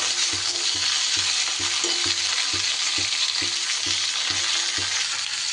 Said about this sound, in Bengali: সিমটা আমার একটু নাড়াচাড়া করে ভাজা ভাজা করা হয়ে গেছে